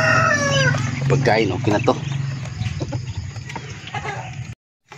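Roosters and hens on a backyard farm at morning feeding time crow and cluck loudly and close by, layered under someone talking in Filipino.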